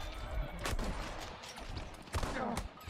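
Rifle shots fired in Battlefield 1 on the Suez Conquest map, a few sharp close cracks over a busy, noisy battlefield din with distant gunfire throughout.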